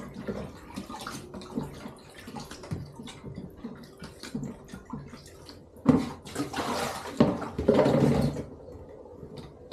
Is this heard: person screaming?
no